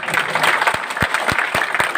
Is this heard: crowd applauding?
yes